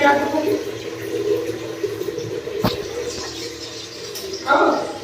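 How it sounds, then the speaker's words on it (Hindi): Drinking water runs steadily from an RO water purifier into a container, a continuous close splashing stream with someone talking over it and a brief clunk near the end. "और अभी बस पानी भर रहा है, पीने का पानी ले रही हूँ अम्मा के आरो से"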